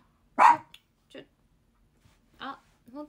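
A dog gives a sharp loud bark, then a few quieter, shorter yips and barks spaced across a few seconds, close by and indoors, with no other sound between them.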